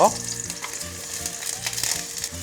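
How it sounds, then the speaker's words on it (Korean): Potatoes sizzle and crackle steadily in hot cooking oil in a pot, close and continuous, with occasional scraping of stirring against the pot. "그리고 감자를 한번 볶아줄게요."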